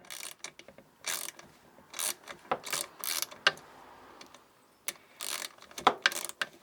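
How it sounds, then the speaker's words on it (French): A ratchet wrench with a 10 mm socket clicks in quick, uneven bursts while backing out screws on an outboard motor's lower unit, with close, crisp ratcheting strokes separated by short pauses. "De nouveau mon racagnac"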